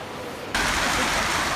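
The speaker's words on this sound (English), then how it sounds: "Cell phone video shows water gushing down Anderson Street in Beacon Hill after a fire hydrant broke and started dumping gallons of water." Water gushing from a broken fire hydrant floods down Anderson Street in Beacon Hill, a steady broadband rush that jumps suddenly louder partway through and then holds as a continuous close roar.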